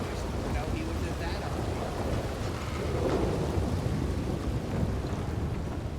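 In a video game, a thunderstorm rolls on with steady heavy rain and low rumbling thunder swelling near the middle, loud and continuous, while voices talk over it.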